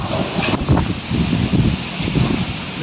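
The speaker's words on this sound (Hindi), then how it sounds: "तो दोस्तों बहुत तेज हवा चल रही है, इतनी तेज नारियल के पेड़ इस तरह से हिल रहे हैं" Strong storm wind rushes steadily through swaying coconut trees, a dense, continuous roar with gusty surges and rustling, loud and close with no pauses.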